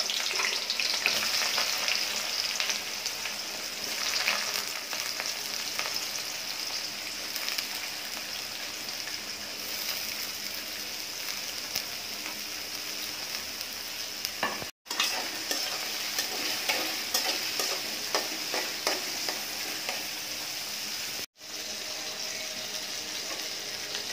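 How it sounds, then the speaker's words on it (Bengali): Onions tipped into hot oil in a wok-style pan for a tomato fish curry sizzle and crackle steadily throughout, a close, dense frying hiss with two brief drops to silence. "কড়াইয়ে তেলটাও গরম হয়ে গেছে,"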